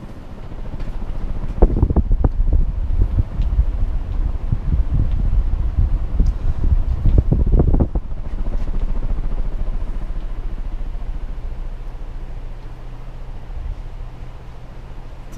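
A Fasco heat cycler fan with a large K63 stack motor blows air in a steady, loud, close whooshing roar, with rougher rumbling gusts early on before it settles to an even hum.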